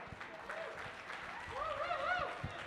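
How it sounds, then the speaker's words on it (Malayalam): Faint, distant applause from a concert audience welcoming performers at a live music show of Mohanlal film songs at an Onam event, soft and brief under background music. "നമുക്ക് അവരെല്ലാം സ്വാഗതം ചെയ്യാം ഒരു വലിയ കൈയടിയോടെ."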